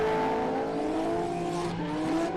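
Drift race cars at full speed, one a Nissan RB30-engined machine, scream past with high strained engine tones and rising pitch sweeps as tyres squeal, loud and close, with no talk over them.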